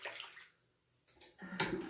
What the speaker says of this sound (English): I'll wet the razor here in the water.